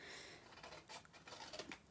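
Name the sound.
scissors cutting paper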